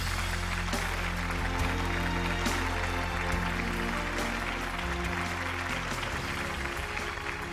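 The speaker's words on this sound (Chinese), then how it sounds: "掌声欢迎小徐。" A Chinese TV talk-show studio audience claps to welcome a guest named Xiao Xu onstage, steady dense applause filling the room throughout under background music.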